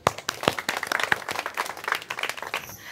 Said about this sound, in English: With a round of applause, let's welcome her.